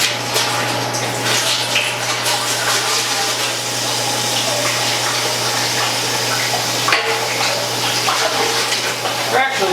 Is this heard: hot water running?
yes